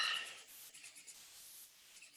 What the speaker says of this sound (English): rub them a couple more times here